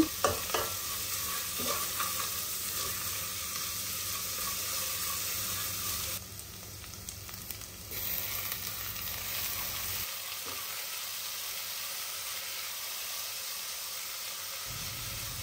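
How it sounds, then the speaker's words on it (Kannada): Onion, curry leaves and tomato frying over a low flame, a steady soft sizzle with occasional stirring scrapes throughout, briefly dipping quieter midway, with no one talking. "ಒಂದು ಈರುಳ್ಳಿ, ಒಂದು ಸ್ವಲ್ಪ ಕರಿಬೇವಿನ ಸೊಪ್ಪು ಆ್ಯಂಡ್ ಟೊಮೆಟೊ ಇದನ್ನೆಲ್ಲ ಹಾಕ್ಕೊಂಡು ಚೆನ್ನಾಗಿ ಫ್ರೈ ಮಾಡ್ತೀನಿ"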